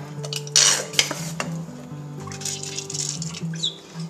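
Dish being rinsed in a home kitchen before mixing a ketchup and brown sugar sauce: clinks of dishes and cutlery, scraping and splashing water, with several sharp knocks over a busy, close clatter.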